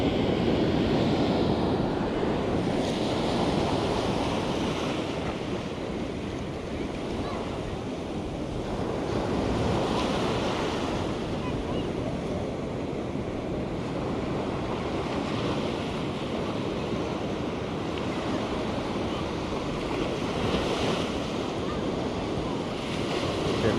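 Ocean surf rolling in at the beach in Carlsbad, California, a continuous wash of breaking waves that swells and recedes in slow surges, mixed with wind buffeting the microphone and no clear talking.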